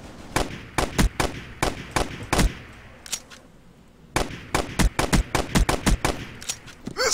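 Bursts of gunfire from a weapon in the video game Boring Man, sharp repeated shots in quick rhythmic volleys, a short lull near the middle, then another rapid run of loud, close reports.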